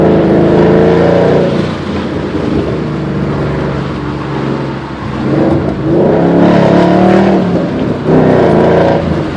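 A 2011 Ford Mustang GT California Special with a Roush exhaust rumbles loudly up close, its V8 idle swelling in a few throttle blips and revs with no talk over it.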